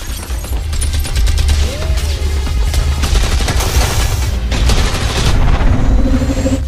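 Dense gunfire in an action movie scene, a sustained barrage of rapid automatic shots hammering a house, loud and continuous with booming low rumble underneath.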